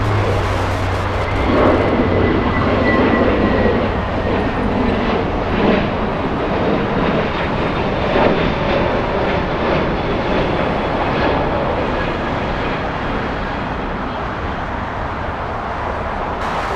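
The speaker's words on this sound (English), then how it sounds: "United 2302 flying to Denver. That's a 750 nautical mile flight." A United airliner taking off from LAX bound for Denver, a roaring jet engine rumble sustained throughout, loud and steady, with a faint whine above it and no voices.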